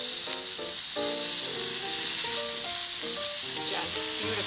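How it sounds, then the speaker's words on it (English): Fish fillets sear on a hot oiled grill pan, giving a steady, bright sizzle with a constant hiss and no talk. "So I've got my grill pan at a pretty high heat here"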